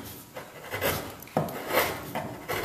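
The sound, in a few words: chisel peeling back wood Dutchman patch on a boat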